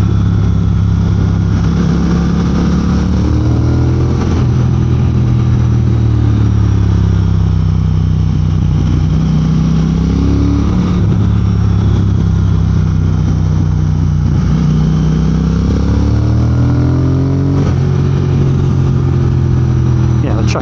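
Triumph Speed Twin motorcycle engine on the road, a loud, steady mid-pitched drone with rising and falling pitch as the rider shifts and accelerates, under wind noise and someone talking.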